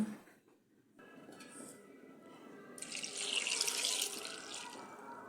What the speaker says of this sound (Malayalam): പിന്നെ അത് വേവാൻ ആവശ്യത്തിനുള്ള വെള്ളം ഒഴിച്ച് കൊടുക്കുക